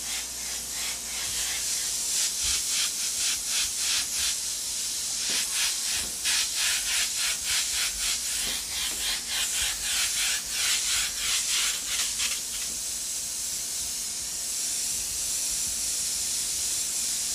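An airbrush sprays paint onto a black shirt while a realistic portrait is painted, a steady close hiss broken by short rhythmic bursts of spraying in the middle, then an even hiss, with no talking.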